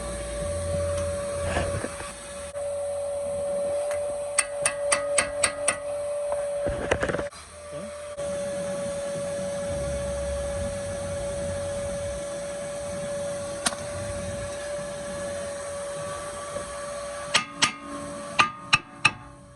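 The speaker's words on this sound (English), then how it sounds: "So we're gonna use this impact screwdriver." A manual impact screwdriver is struck with a hammer on a 2012 Honda Civic 1.8 during a front brake pad and rotor job, producing sharp metallic blows in quick clusters over a steady background hum.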